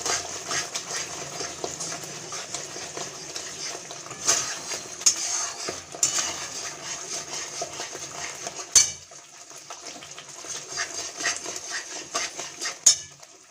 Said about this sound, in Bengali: এটা আগে প্রথমে কিছু দেবো না মশলা, সেফ এটা এই মশলাটাকে ভালো করে কষে নেবো